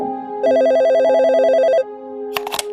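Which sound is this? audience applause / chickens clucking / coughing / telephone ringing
telephone ringing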